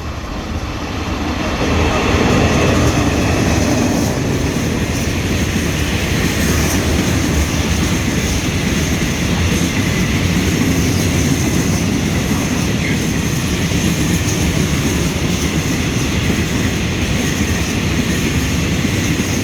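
A diesel passenger train, locomotive GEA 4559 hauling train 536, rumbles past at close range, a steady, loud engine roar with rail clatter that holds for the whole stretch.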